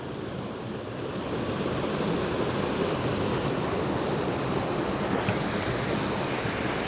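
Hull Creek Falls in Pennsylvania pours in a steady, dense rush of falling water, close and continuous with no pauses.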